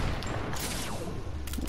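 Sniper shots in an online shooter game, a loud sharp crack with a falling whine and another burst near the end over dense game noise, no talk.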